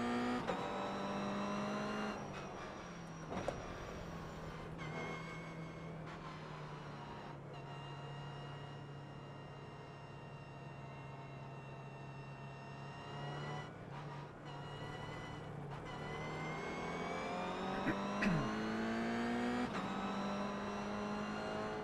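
Toyota GR86 race car engine in the iRacing sim at Interlagos, a steady loud drone holding a constant pitch through most of the run, with brief shifts and revs near the start and toward the end, no talk.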